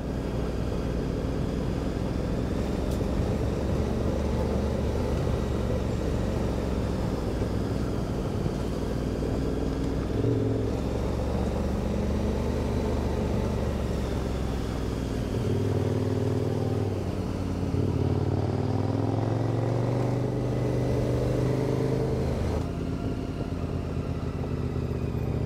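A motorcycle carrying two riders rolls down a winding bush road in Waikaia, New Zealand, its engine droning steadily and loudly with shifting revs and gear changes throughout, wind noise mixed in and no talk.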